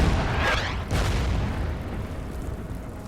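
Artillery fire in the World War II strategy game Order of Battle, set at Tobruk: a loud booming blast near the start, then a second heavy impact about a second later, each trailing off into a low rumbling decay.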